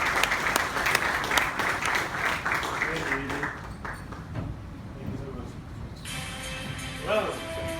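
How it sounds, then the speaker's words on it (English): A crowd at a Huawei closing ceremony claps steadily and fairly loudly for several seconds, welcoming an opening speaker, the applause gradually thinning before voices take over. "Let's applause to welcome him."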